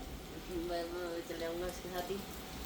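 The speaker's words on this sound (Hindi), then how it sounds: "ये देखो भाई, इस तरफ का नज़ारा भी देख लो बारिश का।" Rain falling in Mussoorie, a steady even hiss of drops throughout, with someone talking over it in the foreground.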